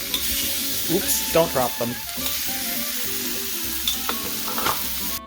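Pork is laid with tongs into hot oil and sizzles loudly and continuously up close, with scraping and clatter as pieces go in and a voice talking briefly over the frying.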